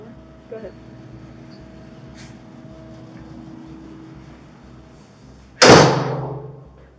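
A car door slams shut once with a sharp, loud thud after several quiet seconds of low background hum, and the impact rings out and fades.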